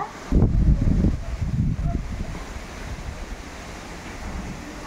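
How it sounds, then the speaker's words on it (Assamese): Gusty wind buffets the microphone in low rumbling bursts for the first two seconds, then settles into a steady, softer rush of moving air. "বতাহ কি মজা বতাহ"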